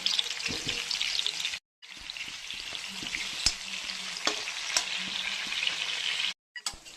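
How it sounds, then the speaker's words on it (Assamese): Potato pieces fry in hot oil in a wok with a loud, continuous sizzle and occasional stirring scrapes and pops, broken by two brief silences. "আলুখিনি প্ৰথমতে ফ্ৰাই কৰি ল'ম।"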